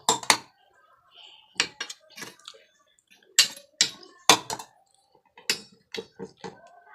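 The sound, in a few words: placing ghee-greased bowls on induction cooker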